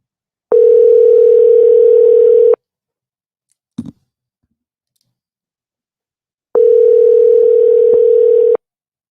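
Telephone dial tone heard while a call is being placed: two loud, steady tone stretches of about two seconds each, separated by silence and a brief click, with no talking.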